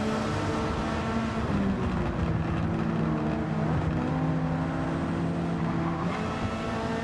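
Race cars in Gran Turismo 7, including a Lamborghini and a Supra, with a steady loud engine drone and shifting pitch tones as the cars run close together, no talking.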